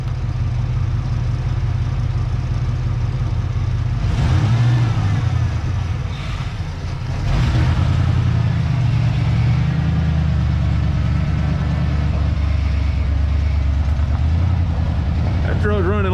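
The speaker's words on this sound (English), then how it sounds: "Truck's running like it wants to go home somewhere." A 1992 Ford F150 pickup, old and slightly smoking, idles steadily with a low, continuous engine rumble close by, with a brief rise partway through as people talk over it.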